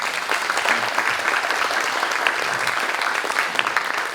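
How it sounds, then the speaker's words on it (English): An audience at a Farm Bureau candidate forum gives a round of applause, a steady, moderately loud burst of clapping that continues throughout without speech. "Okay, we'll give all of our candidates a nice round of applause."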